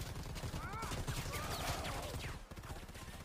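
Rapid bursts of gunfire ring out in the online shooter Predator: Hunting Grounds, dense and continuous. Muffled player chatter runs over the shots.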